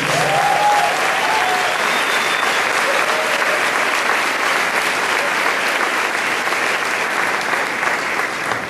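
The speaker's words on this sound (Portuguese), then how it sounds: "quem crê que isso pode acontecer, aplauda o Senhor Jesus." A church congregation applauds during a sermon, steady dense clapping from many hands that fills the room for the full stretch, with a faint voice briefly audible underneath at the start.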